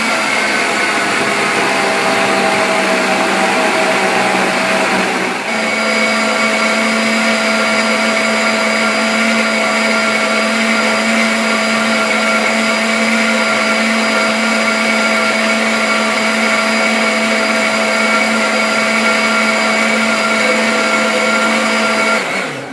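Bio Chef Professional blender running continuously while making hot soup, a loud, steady motor whine that shifts to a higher, smoother pitch partway through and then holds unchanged to the end.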